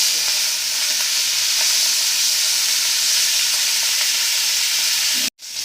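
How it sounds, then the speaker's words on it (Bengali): Prawns fry in hot oil for a taro curry, a loud, close, continuous hiss and crackle that cuts off abruptly just before the end. "কচুর তরকারির জন্য আমরা প্রথমে চিংড়ি মাছগুলো ভেজে নেব তেল গরম হয়ে গেছে"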